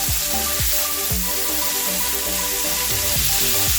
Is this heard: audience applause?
no